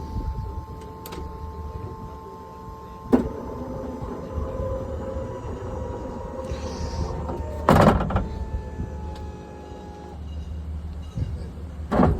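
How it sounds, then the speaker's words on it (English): 2014 Honda Odyssey mobility van with a VMI Northstar conversion opening its powered door, deploying the ramp and kneeling, heard as a steady motor whine under low rumble, punctuated by clunks and a louder latch thump midway. "It's going to open the door, put the ramp out, and kneel the van."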